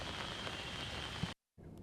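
Heavy rain pours steadily in Nashik as a dense, even hiss that cuts out briefly near the end and then resumes.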